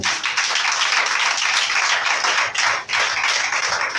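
A church congregation applauds in a dense, continuous burst of clapping that briefly dips near the end, fairly loud and close, with no clear speech.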